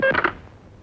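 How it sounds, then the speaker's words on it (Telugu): Telephone dialing tones sound as a quick burst of a few short beeps, fairly close and clear, then fading into quiet room noise. "పాండుగాడికి ఫోన్ చేస్తాను."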